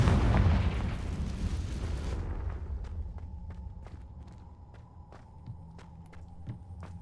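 A Confringo fire spell detonates in Hogwarts Legacy, a loud broad blast that rumbles and decays over about two seconds, followed by faint footsteps and small clicks in a quiet game scene.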